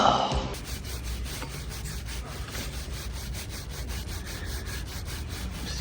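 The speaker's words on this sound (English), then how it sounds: "Got to scrub." A brush scrubs the muddy chain of a Ducati S2R 1000 motorcycle in quick, repeated rubbing strokes, close and steady throughout.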